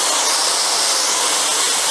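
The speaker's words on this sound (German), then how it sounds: "Das ist die Leistung von Dampf" Steam blasts from the wand of a Brugnetti Giulietta espresso machine in a loud, continuous, powerful hiss that stays even throughout, with no voice over it.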